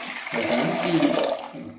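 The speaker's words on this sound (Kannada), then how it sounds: "ಇದಕ್ಕೆ ನೀರು ಹಾಕಿ," Water pours steadily onto raw shelled peanuts, a continuous splashing gush that swells over about a second and then tapers off, close and fairly loud.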